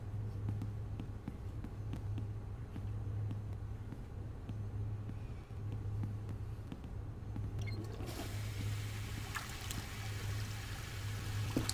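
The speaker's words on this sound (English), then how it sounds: "Sounded like a toilet. Flushing." A toilet flushes in the adventure game The Longest Journey, a steady rushing, trickling wash of water over a low hum, brightening into a fuller surge near the end with no voices.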